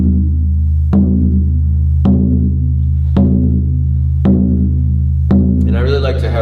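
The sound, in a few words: synthetic frame drum (shaman/buffalo drum) struck with mallet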